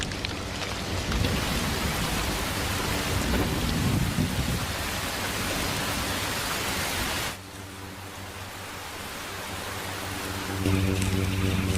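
Steady heavy rainfall with rolling thunder in a Star Wars: The Clone Wars animated lightsaber scene, a dense roar that drops abruptly partway through, then swells back with a low rumble near the end.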